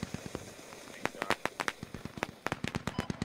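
Rapid bursts of sharp, crackling firework-like explosions go off in the Squad video game, popping irregularly and close by over roughly three seconds, with voices faintly present.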